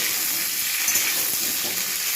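Steady, dense sizzling of winter vegetables frying in hot oil for khichuri, a continuous crackling hiss with no voices.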